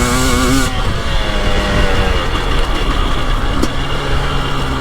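A KTM 300 Erzberg two-stroke dirt bike engine roars loudly close by while riding, a sustained buzzing drone with shifting revs and no voices.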